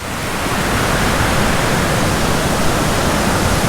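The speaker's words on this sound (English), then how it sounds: "Waves are just huge today." Large waves crash on the Lake Superior shore in Michigan's Eastern Upper Peninsula, a loud, dense, continuous roar of surf close by with no break and no voices.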